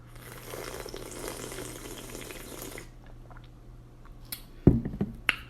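Someone slurps alkaline water from an over-full glass in a drawn-out, hissy sip lasting a few seconds, followed by a quiet pause and a couple of sharp knocks near the end.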